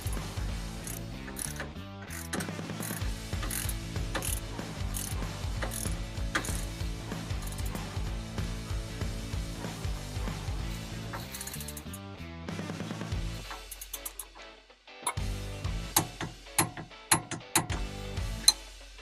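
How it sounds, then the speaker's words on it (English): Ratcheting torque wrench tightening control arm bolts on a Polaris Ranger 1000, a rapid, close clicking pawl run in repeated strokes, broken by a brief pause before resuming, with no talking. "So let's go ahead and set the torque wrench to 44 foot-pounds."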